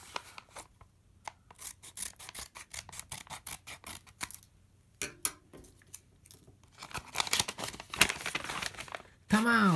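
Scissors and tearing cut open a mailed package of football autographs from TSG 1899 Hoffenheim, with rustling paper and crinkling plastic in irregular bursts, close up, while a person talks excitedly.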